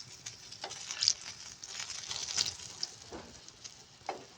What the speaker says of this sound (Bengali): আমাদের সবজি বাগানের বেগুন ভাজি করতেছি